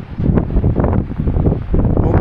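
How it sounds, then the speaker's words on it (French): Strong gusting wind buffets the microphone outdoors in France, a loud low rumbling roar that swells and dips. "le vent, il est fou furieux ce vent."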